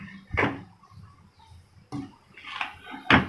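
Arbi (taro root) masala with thick-cut onions being mixed in a cooking pot, giving a few distinct scraping clinks of a utensil against the pot with quiet pauses between them.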